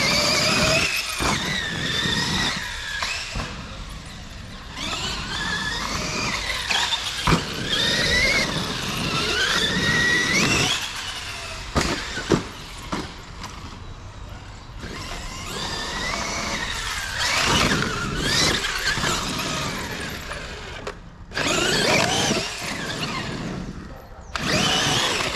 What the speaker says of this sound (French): En tout cas, il fait toujours des wheelies, malgré sa grosse taille.